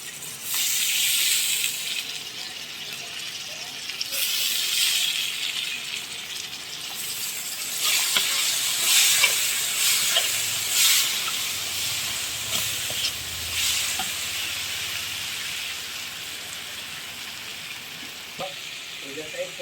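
Food sizzles and hisses in a hot pan while being stirred, a steady frying crackle with surges of steam and scraping strokes across nearly twenty seconds, heard close, with a voice now and then.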